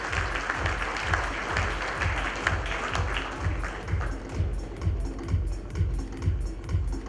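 Audience applause at a technology industry awards ceremony, a steady wash of clapping from a large crowd lasting throughout, with rhythmic low thumps pulsing underneath.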